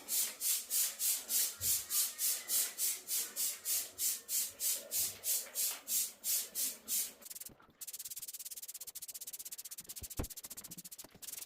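A brush scrubs bathroom surfaces coated with Jif cleaner in about twenty quick, even back-and-forth strokes, then shifts to a steadier, faster rubbing, close and distinct.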